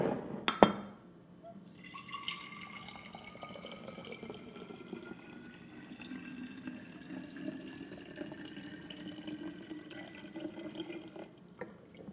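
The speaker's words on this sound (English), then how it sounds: "then you're just going to pour it up in your water bottle" Drink mix and liquid pour into a water bottle at close range, a steady, fairly quiet trickling fill after a brief knock at the start.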